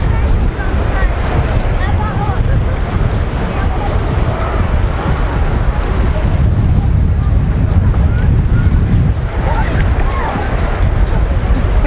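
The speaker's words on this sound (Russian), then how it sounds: "мы решили прийти именно сюда, где именно ветер гонит волну." Strong wind roars across the microphone at the seashore in Anapa, with waves driven by the wind breaking continuously, a loud steady rush of surf and gusts throughout.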